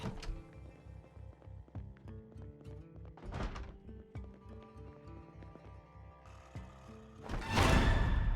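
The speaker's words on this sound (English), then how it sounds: "I hear a zombie banging on a door in there" In the Project Zomboid video game, a zombie bangs on a door inside a house: repeated dull thuds at an uneven pace under steady game music, growing louder toward the end.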